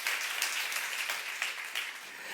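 A church youth congregation applauds warmly after a sermon, a steady wash of many hands clapping at moderate loudness, filling the whole short stretch without voices.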